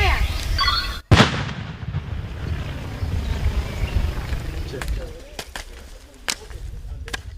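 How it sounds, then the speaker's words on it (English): Controlled detonation of unexploded cluster ammunition in South Sudan: one sharp, loud blast followed by a long rumbling roar and scattered cracks, with a few later sharp pops over steady outdoor noise. "from here, they're going to press this button to explode the bomb safely"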